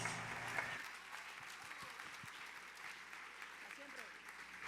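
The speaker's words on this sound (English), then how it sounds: "round of applause again." Live audience applause at a media and music festival, steady broadband clapping from a crowd filling the whole stretch, fairly even in level with no speech over it.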